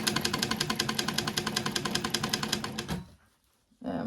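A sewing machine stitches a bag in a fast, steady run of rapid mechanical pulses for about three seconds, then stops to near silence before a brief burst of noise returns.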